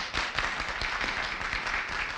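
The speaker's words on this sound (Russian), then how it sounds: "аплодисменты" After a sale at a Moscow auction in 1993, a room of bidders breaks into steady applause, a busy, even patter of many hands heard at a moderate distance.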